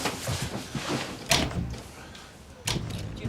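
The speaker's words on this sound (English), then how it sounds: "I'm locking the door." An office door in a police station shuts with two sharp knocks, the second a firm latch or lock click, over faint room noise.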